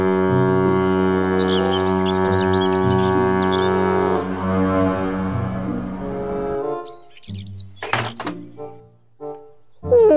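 A toy cruise ship sounds a long, steady, buzzy horn blast for several seconds. It then stops, and a few scattered plastic clicks and thunks follow.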